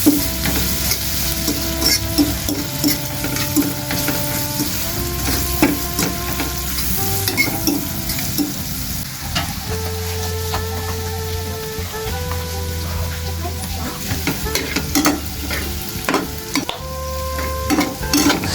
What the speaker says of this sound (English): So I just go ahead with my garlic and crushed ginger. I add into the pan.